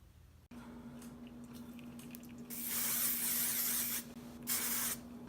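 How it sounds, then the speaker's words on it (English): Hairspray hisses from an aerosol can in two close bursts, a longer spray then a shorter one, over a steady low hum. "spray it with hairspray"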